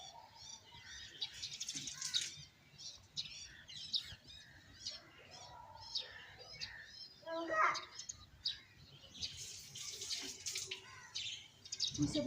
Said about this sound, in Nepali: ल काग आइछ